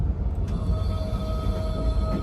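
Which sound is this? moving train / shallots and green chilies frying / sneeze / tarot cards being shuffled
moving train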